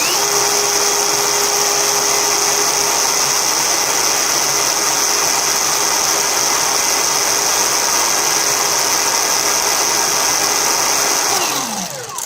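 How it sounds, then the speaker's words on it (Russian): An ONEVAN cordless chainsaw with an 8-inch bar running unloaded at constant speed, a steady high electric whine held for about eleven seconds before the motor cuts off. "Как только включается наша пилка, обороты идут постоянные."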